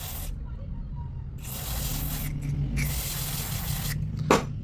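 Lubricant spray hisses onto the cutter motor of a machine during routine maintenance, in two long close bursts over a steady low machine hum, with a brief knock near the end.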